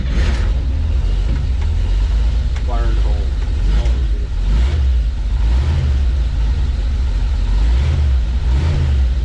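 A 1956 flat fender Dodge Power Wagon engine cranks and runs with a loud, steady rumbling roar that continues throughout, and someone speaks over it.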